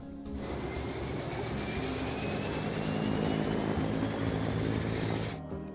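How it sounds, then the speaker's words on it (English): A Loganair airliner taxiing toward the runway, its engines giving a steady, loud, continuous drone with a whining high tone, heard close and uninterrupted until it cuts off at the end. "As the pilots taxi towards the runway"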